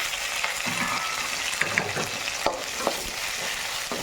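Homemade vadagam, green chillies, curry leaves and a large onion frying and being stirred in groundnut oil in a pan, a steady close sizzle with occasional sharp scrapes and clinks of a spatula, no talking.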